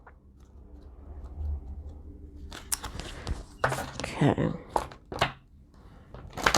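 Close-up papery clicks and riffling bursts of cards being shuffled, irregular and crisp, growing busier toward the end, with a brief spoken word.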